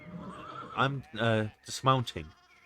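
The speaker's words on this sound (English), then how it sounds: "Michaelos, I'm dismounting." Horse in the video game Pentiment whinnies loudly and close as a rider dismounts, a long quavering neigh followed by a second shorter one, with faint hoof clip-clop, alone without talk.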